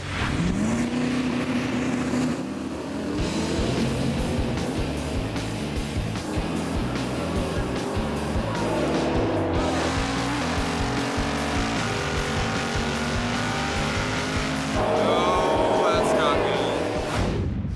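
A 1965 Oldsmobile drag racing at Bandimere Speedway gives a loud, continuous engine roar with rising and falling revs and gear changes, close and heavy throughout, with an announcer talking over it.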